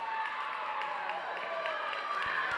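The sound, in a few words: volleyball crowd cheering and applauding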